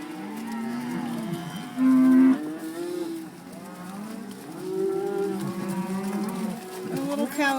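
Several cattle moo repeatedly during a cattle drive in Colorado, long drawn-out calls overlapping from near and farther away, one loud close bellow early on, over a quiet outdoor background.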